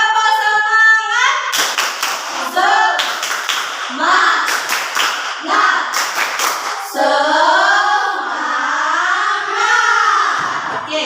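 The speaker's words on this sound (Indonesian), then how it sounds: "Tepuk semangat dulu ya." Students perform a rhythmic spirit clap in a classroom, several sharp bursts of clapping in a set pattern alternating with chanted voices, loud and close.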